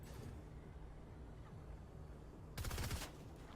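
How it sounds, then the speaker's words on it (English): Distant gunfire in a Fortnite match, a brief rapid burst of shots near the end over a faint low background hum, quiet and somewhat muffled. "we hear some gunfire"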